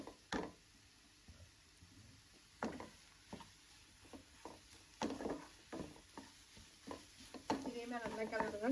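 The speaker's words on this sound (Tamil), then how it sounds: "நல்லா கிளறுங்க, கை விடாம நல்லா கிளறிடுங்க." A spoon stirs a radish and egg stir-fry in a pan, making repeated scraping taps and soft clatters in an irregular rhythm, fairly quiet, with a voice talking over them.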